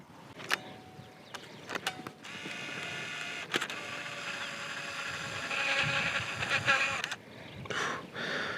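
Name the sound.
Canon EOS IX Lite camera loading and advancing expired film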